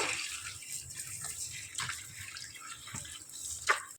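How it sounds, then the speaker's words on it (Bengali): Mangoes are rinsed under running water, a close, continuous splashing and trickling with small surges and drips, and no talking. "প্রথমে আমগুলোকে একটু জল দিয়ে ভালো করে ধুয়ে নেব"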